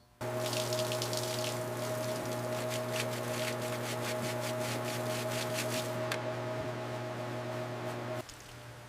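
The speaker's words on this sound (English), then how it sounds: "We're rinsing the floorboards, getting that mud and straw out" Water running steadily to rinse mud and straw off the floorboards of a 1903 Oldsmobile Model R Curved Dash during a deep clean, a continuous close wash with a low mechanical hum beneath, easing off near the end.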